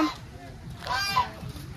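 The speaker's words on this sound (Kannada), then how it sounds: "ಇವಂತೂ ನಾರ್ಮಲ್ ಡಕ್ಸ್ ಇದಾವ" Ducks or geese give a few honking calls at moderate distance, short nasal bursts over quiet background.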